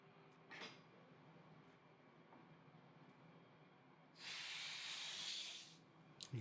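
Compressed air bursts from a pneumatic hose's pressure relief as it is pressed open, a loud steady hiss lasting about two seconds after a brief earlier puff, with no talking.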